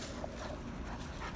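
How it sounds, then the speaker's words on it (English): A search dog pants softly with a faint whimper, quick breathy rhythm close to the microphone and fairly quiet, with no talking. "What an awesome, awesome dog."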